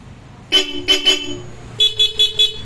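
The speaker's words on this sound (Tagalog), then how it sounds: "Unahin natin demo yung busina" A high, buzzy horn on a Yamaha Aerox V2 scooter, a Bosch Europa horn, honks in short blasts: three quick toots, a pause, then four more at a slightly different pitch, close and loud.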